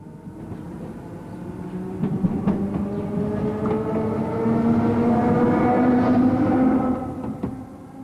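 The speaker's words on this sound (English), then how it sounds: "(26195) has come off its train and heads back light engine to Aulnoy." Class 26195 locomotive running light engine back toward Aulnoy on a French-Belgian rail line, a steady droning engine note with rising tonal whine, building louder mid-way then easing as it passes.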